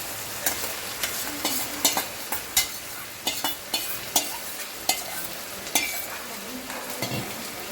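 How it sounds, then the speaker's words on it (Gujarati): Jain hakka noodles stirred and tossed in a hot pan with red chili sauce and soy sauce, giving a steady sizzle broken by regular sharp scraping and clinking strokes of a utensil. "આ છે red chilli sauce, soya sauce અને હવે આપણે એમાં નૂડલ્સ એડ કરશું."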